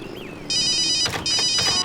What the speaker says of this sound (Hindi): ओह नो, मॉम का ही फोन है।